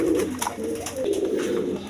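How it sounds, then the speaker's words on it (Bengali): Rajgolla pigeons coo steadily at close range, a continuous low warbling murmur with soft rising and falling pulses throughout. "দর্শকবৃন্দ এখানে একটা কালারিং রাজগোল্লা কবুতর আছে"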